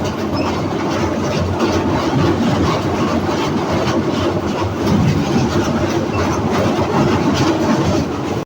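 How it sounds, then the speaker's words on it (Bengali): Benapole Express train crossing the British-built Gorai rail bridge over the Gorai River at Kumarkhali, with a loud, steady rumble and rhythmic clatter of wheels on the bridge throughout, heard from on board. "বেনাপোল এক্সপ্রেস ট্রেনে করে আমরা এখন অতিক্রম করে যাচ্ছি ব্রিটিশদের তৈরি দেশের সর্বপ্রথম সবচাইতে বড় রেল সেতু"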